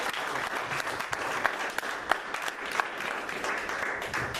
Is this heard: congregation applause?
yes